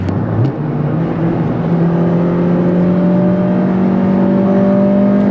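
An 8th-generation Honda Civic Si engine revs up steadily through the VTEC crossover, its pitch climbing in a loud, continuous rising whine heard from inside the car with no talking.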